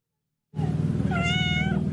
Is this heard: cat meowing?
yes